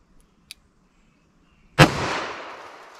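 A single loud, close gunshot from a .38 Special revolver with a 4-inch barrel firing Buffalo Bore ammunition, a sharp crack followed by a long fading outdoor echo, preceded by a couple of faint clicks.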